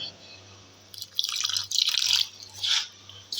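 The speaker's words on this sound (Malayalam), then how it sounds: "കുറച്ച് വെള്ളം കുറേശ്ശെ കുറേശ്ശെ വെള്ളമായിട്ട് നമുക്കിതൊന്ന് കുഴച്ചെടുക്കാം" Water is poured a little at a time into semolina dough being kneaded for pani puri, giving several close, short splashing and trickling bursts separated by quiet gaps.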